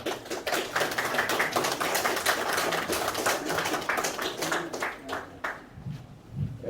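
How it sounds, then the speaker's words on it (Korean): An audience at a 4.19 Revolution 60th anniversary ceremony claps in a dense, sustained round of applause that thins out near the end. "뜨거운 박수로 맞이해주시기 바랍니다"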